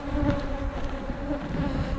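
Honeybees buzz steadily during a hive inspection, a dense, continuous, close-up drone with no pauses and no voices.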